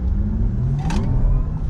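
A Porsche Taycan Turbo accelerates on cold tires that spin briefly, giving a steady close road rumble with a rising electric whine and a short burst of tire noise midway.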